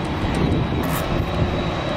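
A fixed-wing airplane landing at Kansai Airport, heard as a loud steady engine roar from an observation deck, continuous and fairly close throughout.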